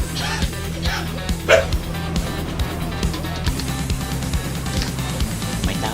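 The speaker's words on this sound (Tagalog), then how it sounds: "Kumakahol yung ano, eh." Dog barks in the background of a noisy Clash of Clans game stream, with sharp yips cutting over steady game music and effects.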